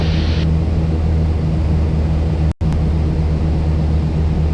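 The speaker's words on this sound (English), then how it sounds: "now where the airplane is descending on the glide path" Steady, loud engine drone and wind rush inside a small airplane descending on the glide path on a windy day, with a brief dropout partway through.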